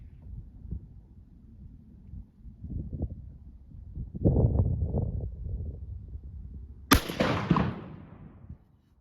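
Twelve-gauge shotgun fired with a reloaded 3-inch steel shell of 1.25 ounces of mixed BB and number 5 shot in a SAM1 wad: one sharp, loud outdoor blast that rings out and decays after a few seconds of quieter background shuffling.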